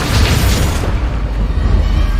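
Bombarda explosion spell from Hogwarts Legacy, a loud, deep booming blast that rumbles and fades over about two seconds, heard alone.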